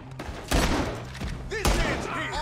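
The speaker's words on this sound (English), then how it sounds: "They're shooting right at me." Gunfire in the video game Red Dead Redemption 2, with heavy gun blasts and shots ringing out over continuous battle noise while characters talk.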